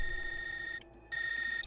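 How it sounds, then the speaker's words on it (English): An electronic phone ringtone in a video game, a steady bright trilling tone that cuts out briefly and then resumes, clear and alone without any voices. "Oh, phone call."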